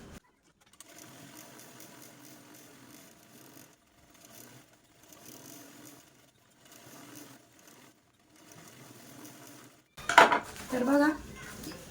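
A domestic sewing machine stitches around the base of a handmade tiffin bag, running in several steady buzzing bursts with short pauses between them, followed by louder handling and rustling of fabric near the end.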